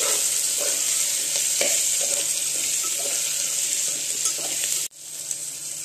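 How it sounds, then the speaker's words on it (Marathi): Sandge dumplings and onion sautéing in a pan, a steady close sizzle and frying hiss with light stirring scrapes throughout, briefly cut off near the end then resuming. "थोडं परतून घेऊया चांगले सांडगे।"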